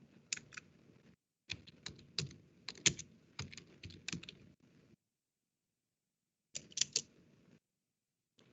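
Keys clatter on a computer keyboard as a command is typed, in quick clustered bursts of close, crisp clicks separated by pauses, in an otherwise quiet room.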